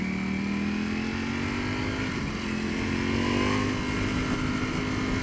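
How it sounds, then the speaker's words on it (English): A 2018 Ducati V4S superbike in race mode at full throttle, its engine note climbing steadily in a loud, continuous rising whine with rushing wind noise, heard up close from the rider's position. "That is what happens when you full throttle a superbike."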